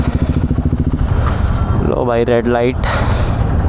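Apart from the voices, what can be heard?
KTM Duke 390 motorcycle engine while riding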